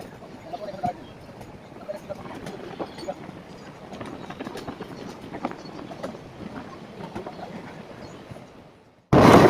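Santragachi–Digha Fast Passenger train on its first day of running, rolling through Kholbagda Hall station without stopping: a steady rumble with rhythmic wheel clatter over rail joints, near and continuous, ending in a sudden loud burst.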